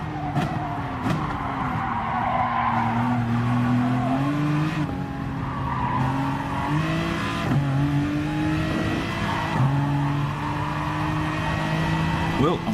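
A car in GT Sport brakes late and hard, with tires skidding and squealing over a loud revving engine whose pitch steps up and down through gear changes, and a voice talking over it.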